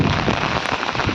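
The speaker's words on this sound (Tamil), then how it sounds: "மழை பயங்கரமாக அடிக்குது, ஃபுல்லாக நனைஞ்சிட்டேன் நான் வர." Heavy rain pours down outdoors, a dense, loud, steady hiss of drops drumming on surfaces with no voices.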